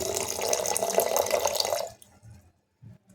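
Cooled boiled water pours steadily onto Indian gooseberries in a container, a splashing stream for about two seconds, then stops, leaving a few faint dribbles and a soft clunk.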